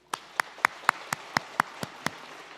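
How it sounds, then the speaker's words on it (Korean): Church congregation clapping during a Korean Sunday service: about nine evenly spaced, crisp claps in unison at a brisk steady tempo, fairly quiet and heard alone. "우리가 박수 해주시기 바랍니다."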